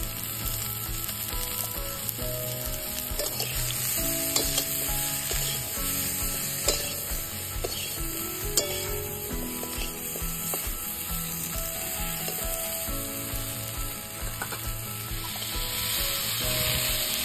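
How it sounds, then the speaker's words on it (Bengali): Potatoes and cauliflower with salt, green chili and turmeric sizzle in a pan over a wood fire, giving a steady, close frying hiss with occasional clinks and scrapes of stirring. "আলু আর ফুলকপিটাকে ভালো করে ভেজে নিয়ে আমি হলুদ দিয়ে দিলাম।"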